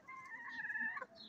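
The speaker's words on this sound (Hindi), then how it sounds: "मैं अपनी मुर्गियों को रोटी खिला रही हूँ" Chickens kept on a Kashmir village homestead in the Neelum Valley give a short, near, tonal clucking call while being fed leftover paratha, heard alone and clearly for about a second.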